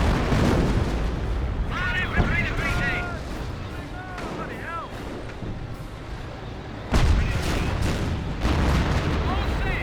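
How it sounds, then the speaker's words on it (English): A British Cromwell command tank under fire in a Company of Heroes 1 battle, with booming shell impacts and bursts of gunfire, a heavy blast near the start and another later, while a voice talks over the combat. "Command tank took a hit there, minor hit."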